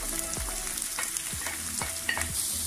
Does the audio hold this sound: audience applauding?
no